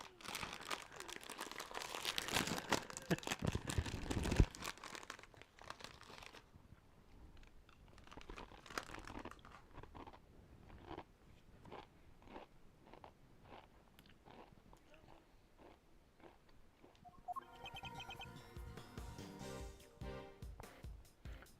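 A chip bag crinkles and Doritos crunch in loud bursts early on, followed by a quieter stretch of intermittent snaps and clicks, with sharper rustling returning at the end.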